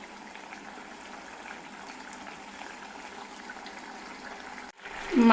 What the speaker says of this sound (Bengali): মাছগুলো দিয়ে মোটামুটি 5 মিনিট অবধি ফুটিয়ে নেব আমি।